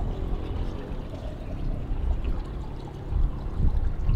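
Water flows outdoors in the Genting Highlands, Malaysia, a loud, steady rushing pour close by that swells a little toward the end, with no voices over it.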